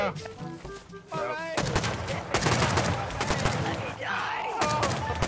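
Rapid bursts of gunfire ring out in the survival video game Rust, sharp overlapping shots and fusillades crowding the scene at close range, with a player's voice breaking in between volleys.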